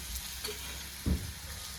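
Sweet potato slices fry in a small amount of oil as a steady close sizzle, with a soft thump partway through as a slice is flipped over; no talking.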